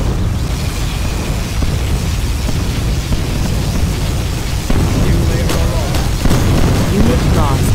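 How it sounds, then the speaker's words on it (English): A particle cannon blast from the superweapon in C&C Generals Zero Hour, a loud, continuous rumbling roar with crackling bursts, set among the din of a tank battle. "Particle cannon activated."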